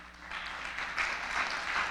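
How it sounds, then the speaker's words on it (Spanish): A church congregation applauds together, a soft, steady wash of clapping heard at a distance and fairly faint, swelling slightly toward the end. "¿Por qué no le das un aplauso al Señor?"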